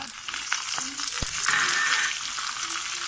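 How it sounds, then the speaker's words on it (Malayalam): Bitter gourd pickle with garlic frying and being stirred in a pan, a continuous bright sizzle with an occasional clack of a utensil, close and alone. "ഇതൊന്ന് ഇളക്കി കൊടുക്കാം ഇനി അതിലേക്ക് വെളുത്തുള്ളി രണ്ട് ടീസ്പൂൺ ഇട്ട് കൊടുക്കാം"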